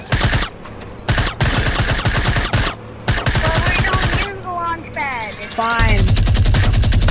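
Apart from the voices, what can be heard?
minigun firing in a video game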